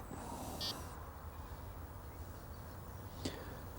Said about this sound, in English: The old buzzer's a bit sensitive